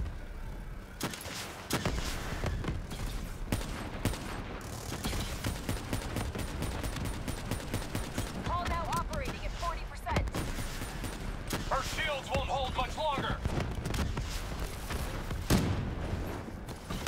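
Call of Duty Black Ops 3 campaign battle, heavy sustained automatic gunfire with rapid bursts and rattling volleys, loud and nearly continuous for the whole stretch, with voices shouting briefly among the shots.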